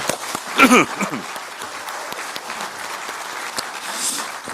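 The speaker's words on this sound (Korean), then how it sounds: "박수 한번 칠까요?" Crowd applause at a political party gathering welcoming local government heads, a brief shout or voice near the start, then sustained mid-level clapping filling the room.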